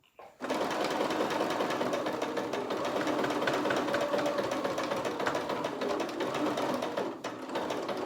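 Domestic sewing machine stitching the border of a cotton dish towel, a fast steady mechanical whirr running continuously after a brief start, close and even with a slight dip near the end.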